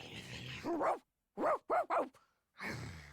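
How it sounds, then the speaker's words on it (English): A dog in The Hundred Line video game, a small puppy, letting out a few sharp yipping barks in a quick cluster, close and clear, with a nearby voice before and after. "She's barking."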